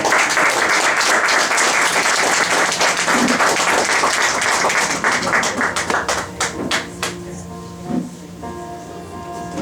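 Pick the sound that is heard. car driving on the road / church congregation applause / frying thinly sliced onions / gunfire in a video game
church congregation applause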